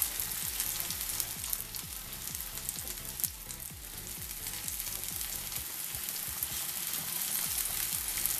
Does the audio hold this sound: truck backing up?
no